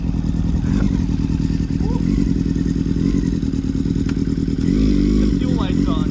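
A 2002 Yamaha R6 motorcycle engine idles unevenly up close, a continuous loud rumble with faint clatter, holding steady for the whole stretch.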